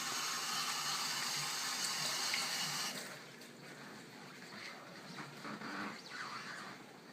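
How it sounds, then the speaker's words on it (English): A kitchen tap runs steadily as hands are rinsed beneath it, a close hiss of water for about three seconds before it cuts off, leaving quieter handling and faint drips. "rinse my hands off"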